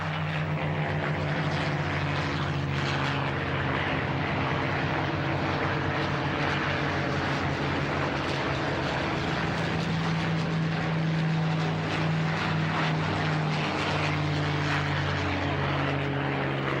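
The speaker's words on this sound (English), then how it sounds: "And then the mass Mustang takeoff." A mass takeoff of P-51 Mustang piston fighters at the Duxford Flying Legends airshow, a continuous loud propeller and engine roar that swells and drones throughout, with no talk.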